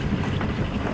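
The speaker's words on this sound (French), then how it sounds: "J'ai remis en route le moteur." A boat's restarted engine drones steadily on a flat, calm sea off the coast of Brittany, making a brief, even, continuous mechanical rumble.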